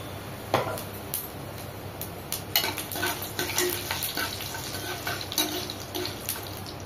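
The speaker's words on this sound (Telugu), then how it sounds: "ఇవన్నీ మనం స్లోగా సిమ్లో అనేది వేయించుకోవాలి." Coriander seeds and fennel seeds fry slowly over low heat in a pan, giving a faint, steady sizzle broken by scattered crackles and light pops, with no talking.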